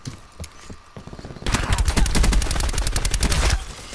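Rapid gunfire from a shotgun fitted with an operator mod in a shooter video game, starting with a few scattered shots and then a dense, loud, steady barrage of close blasts lasting several seconds.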